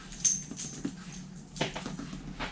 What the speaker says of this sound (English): I got a little dog here whining